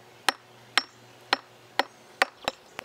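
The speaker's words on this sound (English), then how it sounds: "Now I'm just going to tap on the structure lightly" Light, sharp taps on a poured concrete pier, six evenly spaced hits about half a second apart, each a crisp close knock over a quiet background hum.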